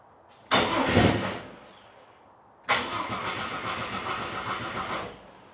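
An old barn-find engine running on petrol cranks in a loud burst, falls quiet for a moment, then catches and runs steadily at close range for a few seconds before cutting back.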